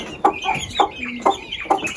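A hen clucks in short repeated bursts, four or five clucks at a steady pace, close by with no talking.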